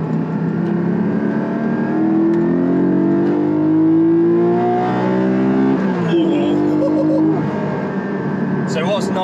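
A Porsche 718 Cayman GT4 engine, mounted behind the driver, revs loudly and climbs steadily in pitch toward an 8,000 RPM redline, then drops back and rises again, close by, with a person talking over it.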